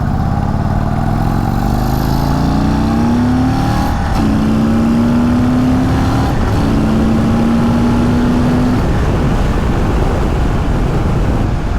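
An Indian Chief Bobber Dark Horse V-twin cruiser motorcycle engine revs up loud and close, its pitch rising and falling through several throttle sweeps over a steady, rumbling idle, with no talking.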